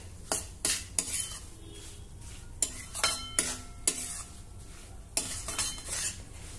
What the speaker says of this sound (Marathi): काजू, बदाम, पिस्त्याचे काप आणि 1 मिनिटासाठी हे ड्रायफ्रूट देखील रव्यासोबतच भाजून घेऊ